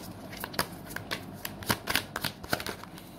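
Tarot cards being shuffled by hand, a series of crisp riffling flutters and soft slaps in irregular bursts, close and fairly quiet with no talk.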